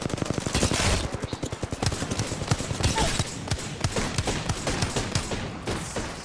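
Rapid automatic gunfire in Apex Legends, a long rattling stream of shots that comes in bursts and fades slightly in places, loud and close, with no voices.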